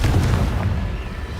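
A Confringo fire spell blast in Hogwarts Legacy, heard as a loud, booming burst with a heavy low rumble that fades over about a second, with no talking.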